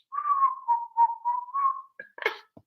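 A person whistles a tune from Snow White in a short melodic phrase of several clear notes, followed by brief rustling sounds.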